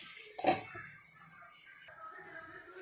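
A lid is set over a pot of frying chicken, making one brief metallic clink of lid on pot, followed by a quiet background hum.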